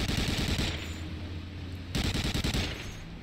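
Rapid automatic MP40 submachine gun fire in the World War II shooter Medal of Honor Allied Assault, two dense bursts with a short pause between them, loud and close with no talking.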